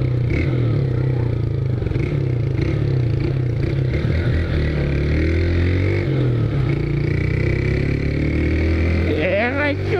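Car engine with a newly installed aftermarket exhaust rumbles loudly and steadily near a bridge, with low revving throughout and a rising rev near the end, while people talk over it.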